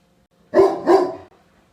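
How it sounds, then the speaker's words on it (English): A dog barks twice in quick succession, fairly close and clear, in an otherwise quiet indoor setting. "podcast listeners, there's your dog noise"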